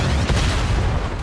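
Heavy gunfire from the Final Shot skill in Honkai Impact, a dense, loud, booming barrage of rapid shots and blasts packed tightly for about a second with no pause.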